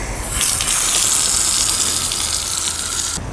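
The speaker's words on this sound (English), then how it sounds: "we're gonna fill it up with some water." Water gushes steadily from a garden hose filling a flowerbed, a loud, continuous hiss of rushing flow that holds level throughout with no voices.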